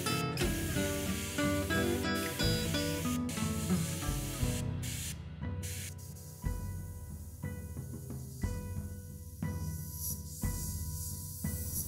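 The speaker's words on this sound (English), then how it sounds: "it was time for a coat of hairspray, which of course I sprayed with my airbrush" An airbrush sprays a coat of hairspray onto a 1/48 Tamiya F4U-1D Corsair plastic scale model, a soft hiss running in short bursts and pauses beneath steady tonal background music.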